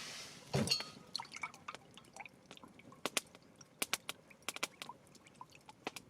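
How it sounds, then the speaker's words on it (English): Water swished around inside a camping cup after campfire cooking, heard as close, quiet sloshing and a run of small drips and splashes with a few sharper clinks, with no talking. "pour it into the cup, give it a swish."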